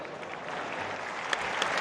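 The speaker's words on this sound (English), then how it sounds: "Now he receives a round of applause from the crowd." A crowd applauds an injured fighter, Damir Smagulov, after a knee injury at a grappling event, with steady, dense clapping filling the arena from start to finish.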